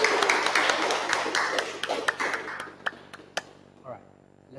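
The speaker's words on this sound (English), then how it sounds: "round of applause to our lovely audience here today" An audience at a filmmakers' league launch event claps, a dense patter of sharp claps with people talking over it, thinning into a few scattered claps near the end.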